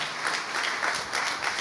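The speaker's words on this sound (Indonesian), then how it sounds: "Berikan tepuk tangan buat Tuhan kita." A church congregation at a worship service in Bekasi claps in sustained applause, a dense patter of many hands at moderate loudness throughout.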